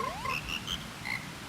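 Cutscene frogs from The Legend of Zelda: Majora's Mask croak in a melodic chorus, opening with a rising glide, then a string of short, evenly spaced chirpy notes over a steady hazy backdrop.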